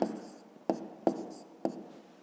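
Pen on paper writing out a number for a fifth-grade maths answer, four quick scratchy strokes at uneven intervals with light rubbing between, near and soft, no speech.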